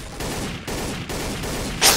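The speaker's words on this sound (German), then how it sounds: "Irgendeiner hat auf mich geschossen." Rapid bursts of gunfire from Trouble in Terrorist Town on the Nuke Town map crack out in three or four close, loud volleys, ending in a sharper, brighter shot.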